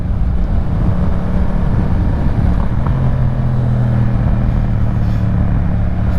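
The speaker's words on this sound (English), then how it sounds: "Just taking a little afternoon ride around the lake on the Mt07." Yamaha MT-07 motorcycle fitted with a Yoshimura exhaust, ridden on an afternoon road around a lake, a loud steady engine drone mixed with heavy wind rush, pitch rising slightly midway.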